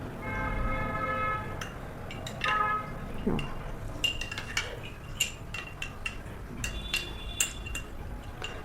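Metal spoon clinks repeatedly against a glass while dried amla (Indian gooseberry) powder is stirred into water, sharp taps scattered through a soft background hum, close and fairly quiet.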